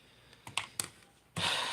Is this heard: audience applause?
no